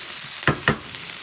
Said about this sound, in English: Once the onions have softened a little bit, add a little more butter and give those a mix.